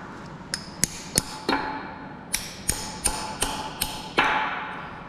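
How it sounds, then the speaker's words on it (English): Sledgehammer tapping a stuck valve on a Packard 327 engine, roughly ten sharp metallic knocks in an uneven rhythm, close and clear with no talking. "tapping it up with a sledge"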